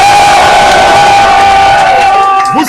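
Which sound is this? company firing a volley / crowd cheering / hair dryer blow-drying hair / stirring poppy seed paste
crowd cheering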